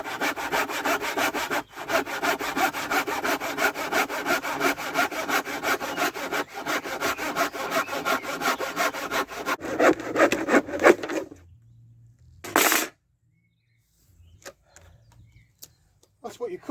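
A hand saw cutting through inch-thick plywood at a cabin, fast steady rasping strokes for about eleven seconds, close and continuous, then stopping with a brief clunk and near silence.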